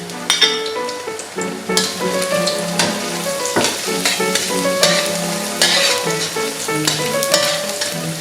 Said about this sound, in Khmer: ចាគឺយើងលីងខ្ទឹមសយើងឲ្យឡើងក្រហមហើយឈ្ងុយណាបងប្អូន